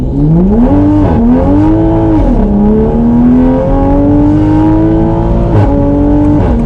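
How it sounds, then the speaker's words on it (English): A tuned Toyota A90 Supra launches hard with tires spinning, its engine note rising and dropping through first, second and third gear shifts, loud and sustained with no talk. "That was a spin, first, second, and third gear, lit up the tires."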